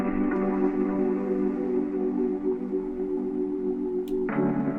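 Sustained Rhodes chords with tape-style processing, layered with a sample, hold a warm, hazy wash, then a fresh chord enters near the end.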